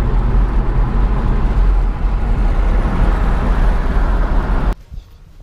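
A 2002 Pontiac Trans Am Firebird drives along country roads with a loud, steady low engine and road rumble heard from inside, which cuts off abruptly near the end.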